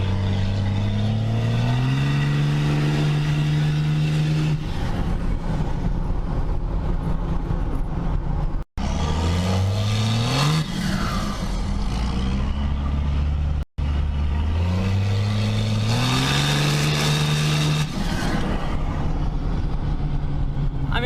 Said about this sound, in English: I think I'm gonna give it a wide open throttle rip and see how it feels.